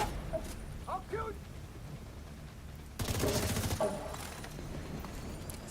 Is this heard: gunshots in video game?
yes